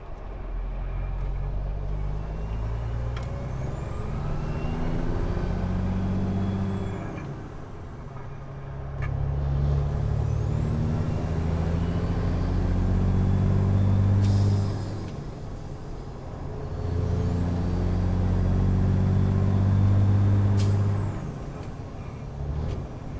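A big truck drives along, its engine note rising and falling in three long cycles as the gears shift, with occasional air brake hisses over the steady rumble and no talk.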